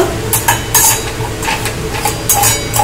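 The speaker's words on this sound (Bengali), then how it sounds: "এই গরম তেলের সঙ্গে কিন্তু এই মশলাগুলো ভালো করে নেড়ে নেব" Spices being stirred in hot oil in a pan while making bread rolls, with repeated scraping and clinking strokes of a utensil against the metal pan over a soft sizzle, loud and close.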